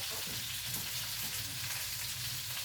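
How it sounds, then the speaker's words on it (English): Pasta in a pot bubbles with a steady hiss, and a faint stirring sound rises briefly beneath it, quiet and close. "I'm going to check my pasta again, stir it again."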